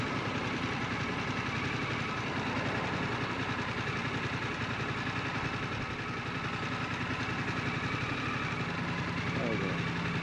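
A touring motorcycle on the Pan-American highway in Chile idles with a steady, even engine rumble throughout, while someone talks over it.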